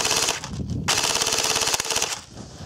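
A 12-volt mini gearbox in an airsoft gun fires BBs at a very high rate, producing a fast, buzzing stream of mechanical clicks close by, with a brief pause partway through the burst.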